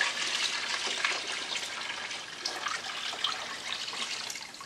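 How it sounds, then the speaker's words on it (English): Water runs steadily into a pot of pork bone broth in a home kitchen, a soft, continuous splashing pour heard up close. "add more water."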